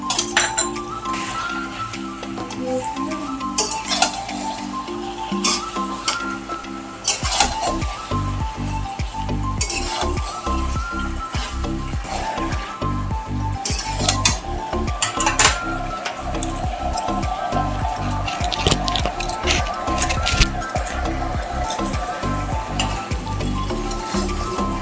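Chicken and crushed prawns sauté in a pan for a Goalondo steamer chicken curry, with a steady sizzle broken by repeated sharp taps and scrapes of stirring, close and alone.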